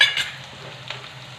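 Onions sautéing in a pan over heat, a steady soft sizzle with a brief stirring scrape near the start, close and fairly quiet, no voices.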